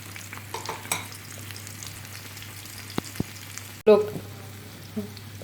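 A chicken omelette fries quietly in a pan under soft scraping stir sounds, then a sudden clatter and flurry of sizzle mark the flip, followed by faint pan noises.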